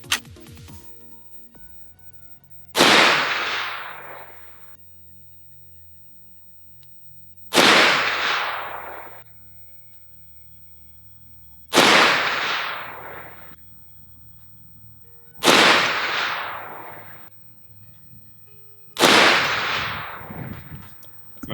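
Wilson Combat 458 SOCOM Recon Tactical AR-15 rifle firing TTSX bullets, five loud single shots spaced several seconds apart, each a sharp crack with a decaying echo, outdoors with no talk.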